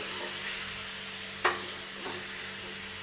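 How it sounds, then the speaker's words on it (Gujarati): Grated bottle gourd being stirred in melted ghee in a kadai over a medium flame, with a low, gentle sizzle, one sharp utensil clack partway through and a fainter scrape after it. "આપણે ઘીમાં સાતવવાનું છે હવે આપણે તેને હલાવી લઈશું"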